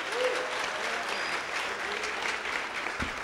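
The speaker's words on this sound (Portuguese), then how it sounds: "Quem quer aplaudir, pode aplaudir." A church congregation claps together in steady, moderately distant applause that fills the room evenly, with a single soft thump near the end.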